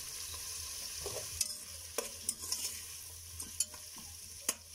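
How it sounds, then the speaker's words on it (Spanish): Soft, steady sizzle of onion frying in a pan with occasional scrapes and clicks of a utensil stirring, fairly quiet and without talk. "Entonces vamos a freír nuestra cebolla."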